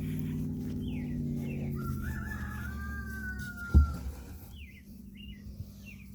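Chickens cluck and a rooster crows in the background on a ranch, mixed with a low engine hum and a sharp knock partway through.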